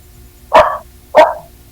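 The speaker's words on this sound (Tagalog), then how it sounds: "Naingay ng aso." A dog gives two sharp, loud barks about half a second apart, close by, with a faint low hum in the background and no talking.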